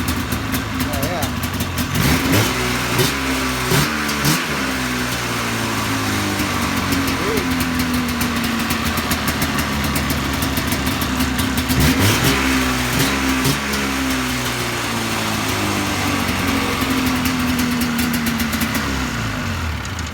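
Modified exhaust on an XCR 440 snowmobile engine with holes in the pipe, revved repeatedly with the throttle, rising and falling engine whine with rough crackle, loud and close, with people talking over it.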